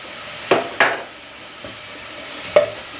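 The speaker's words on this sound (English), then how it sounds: "Stir into the oil for a good 30 seconds on a medium heat." Ground spices stirred into hot oil over medium heat, on top of golden fried onions, give a soft, steady sizzle punctuated by a few sharp scrapes and taps of the spoon against the pan.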